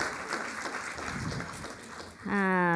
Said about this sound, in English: That deserves a bigger round of applause.